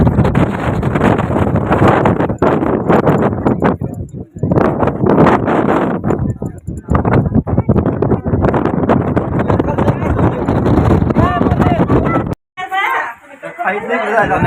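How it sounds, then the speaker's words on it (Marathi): Strong gusty wind on a hilltop above a valley at Shikhar Shingnapur temple roars and buffets the microphone almost continuously, loud and close, with a person talking underneath. "कॅमेरा सुद्धा हलतो एवढा वारा इकडं"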